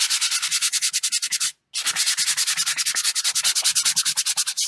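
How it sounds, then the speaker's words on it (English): Sandpaper rubbing over a layer of acrylic paint on gritty Liquitex gesso, a fast, steady back-and-forth scratching close up, with one brief pause partway through and no talking. "So I've got a layer of acrylic on here now, and I am just going to sand it just a little bit"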